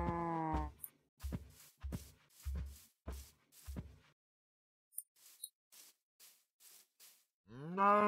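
A Minecraft cow moos in the video game, a couple of drawn-out low moos framing a run of short rhythmic clicking and stepping sounds, fairly close and with no talk over them.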